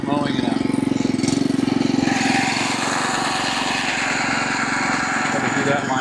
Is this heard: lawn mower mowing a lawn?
yes